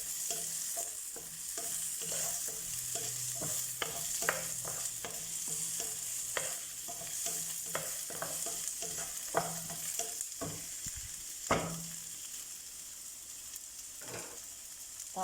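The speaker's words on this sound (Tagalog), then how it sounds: "Haluin lang natin hanggang yung madurog" Bitter melon and egg are stirred in a frying pan, with a steady sizzle and repeated scrapes and clicks of the utensil against the pan.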